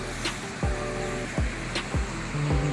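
A village river at Chiveli near Chiplun in the Konkan rushes steadily and close by, a continuous broadband wash broken by a few soft low thumps.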